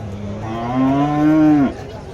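A single bovine moo from cattle at a native cattle market in India, a sustained low bellow of under two seconds that rises slightly before cutting off, with faint background murmur.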